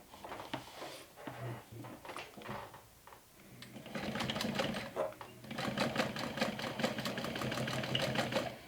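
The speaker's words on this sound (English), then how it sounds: "So I'm gonna stitch that down." A sewing machine stitches the side panel of a lined backpack in several bursts, close and steady, with short pauses at first and then a longer run of rapid stitching.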